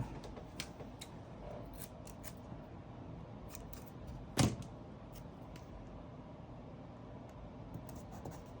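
A single sharp, close snip of scissors cutting a sheet of paper in half while working on a social media planner, standing out against a quiet room hum with faint rustles around it.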